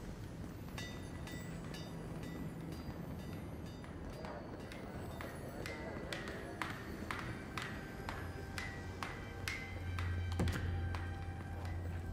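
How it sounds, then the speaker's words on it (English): Faint, steady metallic hammering from a blacksmith's forge in the fantasy game Avowed, a run of sharp taps over a low ambient hum with a brief hiss of quenching near the end. "I feel like it's impossible to hear anything over all this banging and quenching"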